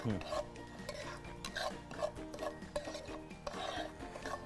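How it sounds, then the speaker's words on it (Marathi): Semolina roasting in a pan as a spoon stirs it, producing soft scraping and clinking against the metal in an irregular rhythm, close and fairly quiet. "त्यामध्ये रवा टाकते मी रवा भाजून घ्यायचा आहे आपल्याला गुलाबी सर भाजून घ्यायचा"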